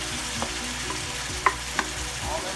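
Shrimp frying on high heat in melted butter with garlic make a steady close sizzle, with a couple of sharp clinks and soft scrapes from stirring.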